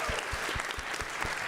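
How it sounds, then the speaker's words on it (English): Audience at a Grit Boot Camp seminar applauding for a speaker, a dense continuous wash of clapping with a steady rhythm, fairly loud and close, with no voices over it. "let's give a massive round of applause for Dallin really quick"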